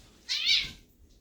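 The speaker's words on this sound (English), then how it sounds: "That was a cat." A single short meow from a cat, clear and fairly close, rising and falling over about half a second against a quiet background.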